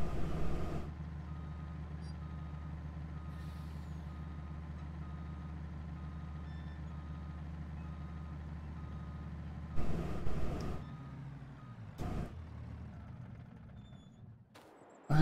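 In Farming Simulator 22, a truck sits idling with a steady low engine drone for most of the stretch, then shifts and trails off near the end; no distinct reversing beeps stand out above the engine.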